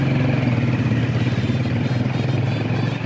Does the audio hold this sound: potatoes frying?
no